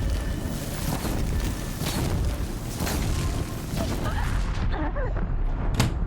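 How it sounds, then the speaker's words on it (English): Loud, continuous explosive rumbling and booming from combat in the video game Horizon Zero Dawn, with dense blasts running through the whole stretch and a voice talking faintly underneath. "The explosion killed me."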